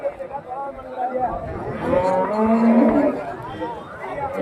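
Pregnant dairy cows at a cattle market in Karimangalam, Dharmapuri district, low drawn-out moos rising over a busy crowd murmur, with people chattering nearby throughout.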